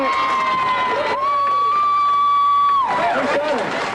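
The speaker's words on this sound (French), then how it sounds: "des cris et des applaudissements pour saluer ce beau bébé" Cheers and applause from an oceanographer team greeting a newborn orca calf, loud shouts and clapping blending with a long tonal whistle-like call in the middle, and voices rising again near the end.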